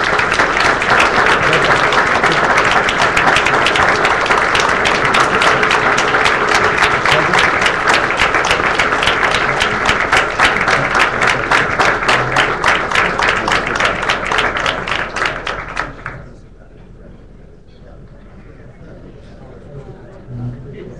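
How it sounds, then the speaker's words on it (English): Audience applause closes a candidate debate: loud, dense clapping from a crowd holds steady for about fifteen seconds, then quickly fades into near quiet. "Now would be a great time to give them all a nice round of applause."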